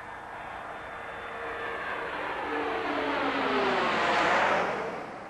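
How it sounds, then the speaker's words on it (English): Space Shuttle Columbia rolling out on the runway at Edwards Air Force Base after landing, a broad distant roar of rushing air and engine-like noise that swells toward the end, with no talk. "Columbia is rolling out on runway 22 at Edwards Air Force Base"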